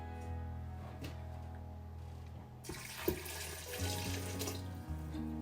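Water pours steadily into a blender in a continuous splashing rush that grows louder partway through, with a low hum underneath and no talking.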